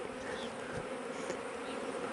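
Honey bees buzzing steadily around their hive during a break in the nectar flow, a continuous close hum with no talking.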